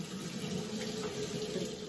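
Water from a tap runs steadily into a sink for washing off a face mask, a soft, even splashing flow heard alone at low volume.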